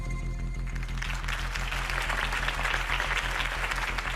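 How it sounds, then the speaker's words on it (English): A large crowd applauds after a campaign speech in the game Batman: The Telltale Series, dense clapping swelling and holding steady, loud and continuous throughout, with no one talking over it. "If only Mr. Wayne, my campaign's largest backer, could have heard that applause"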